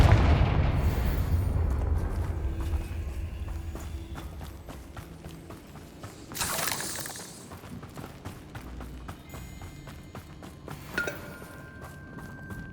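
A Confringo fire spell from Hogwarts Legacy bursts once mid-fight, a loud broadband blast standing out over rumbling combat and scattered impacts, with a brief later crack.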